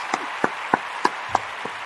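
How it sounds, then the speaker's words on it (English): A small audience applauds with sparse claps, six distinct hand claps spaced roughly evenly, light and fairly near. "Round of applause, Mr. Well Howard."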